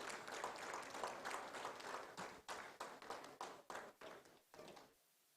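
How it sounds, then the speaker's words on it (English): Applause at a startup summit, a crowd clapping steadily that thins into scattered, separate claps before stopping abruptly into quiet. "Please give them a huge round of applause because they've been winning this."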